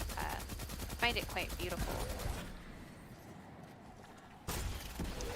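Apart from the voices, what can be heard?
grenade launcher firing in Destiny 2 video game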